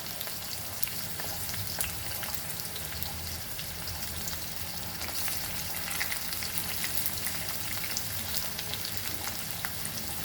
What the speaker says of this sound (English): the oil is hot, we'll add our onion and let this fry till it's golden brown